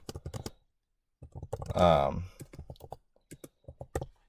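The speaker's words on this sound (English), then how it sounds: "So basically here we can type some text." Keys clatter on a computer keyboard in short bursts of close, crisp taps, broken by a pause and mixed with someone talking briefly over them.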